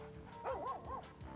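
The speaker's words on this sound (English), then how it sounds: "Now I'm going to pat the doggy." A dog in Baldur's Gate 3 gives a few soft, whiny yips and happy bow-wow sounds while being patted, close and fairly quiet.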